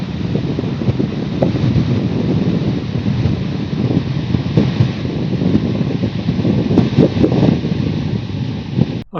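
Headwind roaring steadily past a rider on a Honda CX500 motorcycle cruising at around 80 km/h, a loud continuous rushing blast with engine drone underneath.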